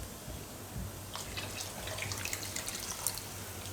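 Water used to rinse rice is poured into a pot of tomato rice, giving a steady close splash and trickle of liquid with a few brighter drips, and no talking.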